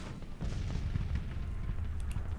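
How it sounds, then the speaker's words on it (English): Civil War artillery rumbles in Grand Tactician: The Civil War, a steady low churn of distant cannon booms with no talking and no single clear blast standing out. "Make sure that our artillery is targeting them."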